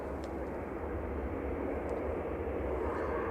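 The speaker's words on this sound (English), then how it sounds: "This is Jet 2 coming in from Venice, 737-800, GDRTZ, flight 802." A Jet2 Boeing 737-800 arriving from Venice rumbles steadily as a distant, continuous engine roar, with no talk over it.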